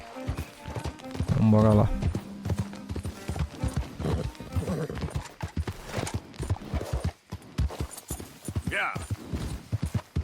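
Horse hooves clip-clopping in the video game Red Dead Redemption 2, a run of hoof beats heard under someone talking and game voices, with a brief whinny-like sound near the end.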